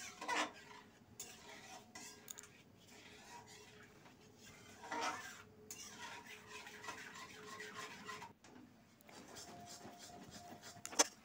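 A thick rice flour face pack being stirred continuously in a pan on the stove, soft scraping and rubbing of a spoon across the pan bottom with a few louder knocks, quiet and close, no voices.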